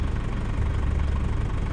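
A tractor engine rumbles in a field, a steady low droning idle-like hum with a mid-level vibration that holds constant and fairly loud throughout, with no voices.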